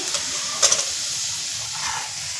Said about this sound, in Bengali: পেঁয়াজ কুচি কালো জিরেটা একটু লাল করে ভেজে নেবো